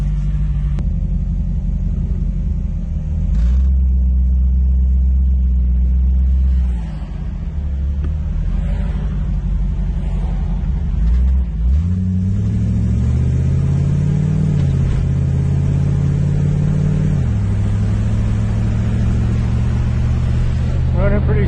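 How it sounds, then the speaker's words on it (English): A Model A hot rod engine runs steadily on a test drive after breakdown repairs, a continuous low rumble that rises in pitch as it accelerates around the middle, with voices talking over it. "All we're going to do is take it for a test drive. Test drive. Let's see how she runs."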